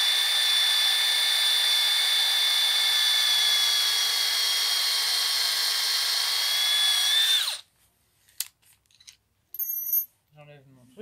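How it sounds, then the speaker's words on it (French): Drill bit boring a hole into wood while building a vegetable garden planter box, a steady high whine for several seconds that dips in pitch as the bit bites, then stops abruptly, followed by faint handling clicks. "Et là, je perce."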